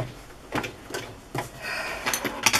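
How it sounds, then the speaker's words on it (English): Irregular mechanical clunks and rattling bursts from a malfunctioning sewing machine, uneven and stuttering rather than a steady run, close by. "What is going on with my sewing machine today?"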